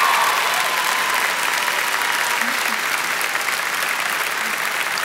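Sustained, dense applause from a large commencement audience at a community college graduation, steady and loud throughout with no speech over it.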